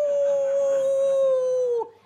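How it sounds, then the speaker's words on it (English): A dog howls in one long, sustained, loud tone that holds steady and then drops off and fades out after nearly two seconds. "he's a naughty dog, isn't he? He's such a naughty dog, that dog."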